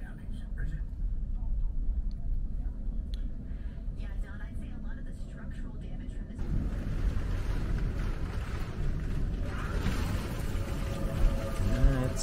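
Steady wind from a damaging windstorm buffets the microphone with a low roaring rumble, growing rougher partway through, while a voice speaks over it.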